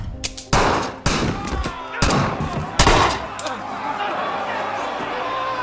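A film scene fills with heavy gunfire from many guns at once, with loud cracking volleys and thudding bursts in quick succession that give way to a sustained rattling roar, close and intense.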